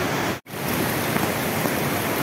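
Heavy monsoon rain pours in a loud, constant hiss during flooding and landslides in Kathua district, India, with only a brief drop in the noise near the start.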